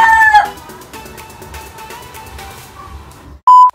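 A rooster crows loudly and close at the start, followed by a quieter stretch of background noise and a sharp electronic beep near the end.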